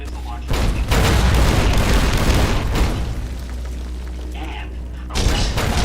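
Missile launcher blasts from a Securitron's M235 in a video game, heavy booming explosions with rumbling debris, loud and close, a fresh blast near the end, with voices over the din.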